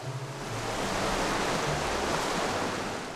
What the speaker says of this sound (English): Big Spring rises through a jumble of giant boulders, forcing the water to flow between the rocks, causing a dramatic turning and tumbling